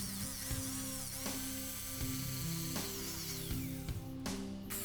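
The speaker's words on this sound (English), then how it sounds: "Using a jigsaw to cut out the" Jigsaw cutting out wooden dovetail tails for a tool box, a steady buzzing saw drone with rhythmic blade chatter, close and moderately loud throughout.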